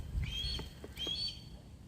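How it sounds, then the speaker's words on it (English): An agitated bird in trees by the water calls over and over in two quick, high, slurred bursts, moderately near and clear against a low outdoor rumble, with no talking. "the bird is pissed off. Man, he hasn't stopped."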